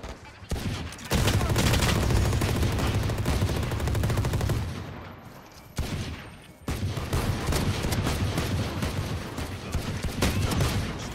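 Sheriff pistol gunfire in the video game Valorant, dense loud bursts of shots and in-game action filling most of the stretch, with a brief lull in the middle before firing resumes.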